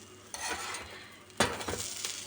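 Cheese toast sizzles in a toaster, a soft crackling hiss with a couple of sharper spits and pops, fairly quiet and steady with no voices.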